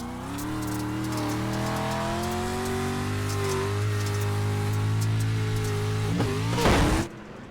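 Street stock race cars lap a track at Crandon, engines droning loud and sustained as one car holds near, then a brief rising surge and a sharp burst of noise as it passes.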